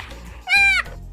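A baby goat lets out one short, clear, nasal bleat close by, standing out against a quiet outdoor background with a faint low rumble.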